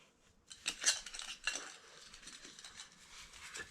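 Toaks 750ml titanium mugs handled and nested together, a short burst of light metallic clinks and rattles followed by softer rubbing and shuffling, fairly quiet and close.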